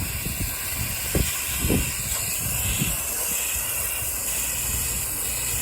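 A pressure washer rinses windows with a steady, broad hiss of spray, broken by a few brief thumps or bursts, close by and with no voices.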